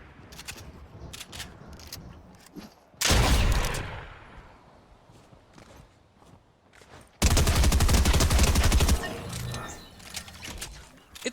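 Shotgun fire in the video game Fortnite, in build mode, with a green and a blue Striker shotgun in the fight, comes in two loud, dense volleys several seconds apart. Quieter clicks and game noise fill the gaps.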